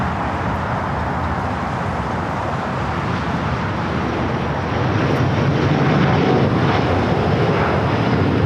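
A Porter Embraer E2 jet rumbles on runway 25 right at Los Angeles airport, a steady broadband engine roar at moderate distance that grows somewhat louder and fuller partway through, with no talking.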